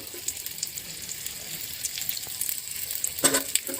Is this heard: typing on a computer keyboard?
no